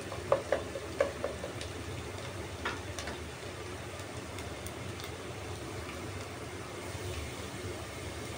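Garlic fries in a pan with a faint, steady sizzle and crackle, while a few sharp clicks and taps of a utensil sound near the start.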